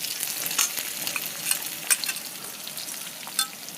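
Garlic, green chilli and onion fry in hot oil, giving a steady, crackling sizzle up close with scattered sharp pops and a few light stirring knocks, with no one talking.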